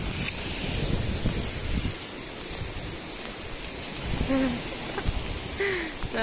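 Stormy wind and waves on the Sea of Galilee near Capernaum in rain, a continuous broad wash of surf and gusts at moderate level, with no talk.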